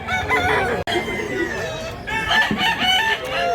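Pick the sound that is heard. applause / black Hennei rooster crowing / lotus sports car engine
black Hennei rooster crowing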